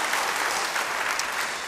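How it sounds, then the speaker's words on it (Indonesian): Brief burst of congregational applause during a church service, dense, even clapping close and fairly loud for under two seconds. "Beri tepuk tangan bagi dia."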